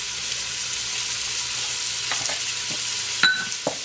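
Meat browns in a pan, a loud, steady sizzle filling the space up close, with a few brief clinks and scrapes of a utensil near the end.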